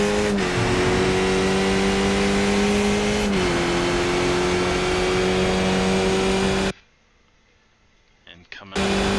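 A Skip Barber race car's engine drones at high revs on the Zolder circuit in iRacing, a steady, close whine that holds for several seconds before cutting out abruptly, with someone speaking over it.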